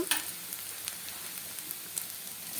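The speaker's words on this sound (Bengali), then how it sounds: "এবার আমি পেঁয়াজটা দিয়ে দিয়েছি একটু লাল লাল করে নেব" Chopped onion and garlic fry in a pan for a masoor and mung dal, a soft, steady sizzle with a few sharp stirring clicks scattered through it.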